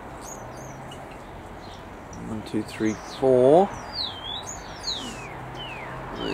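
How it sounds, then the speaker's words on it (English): Small birds chirp and tweet in an outdoor aviary housing sparrows alongside turkeys and doves, faint high calls scattered throughout under a man's speech counting aloud. "There's the sparrows."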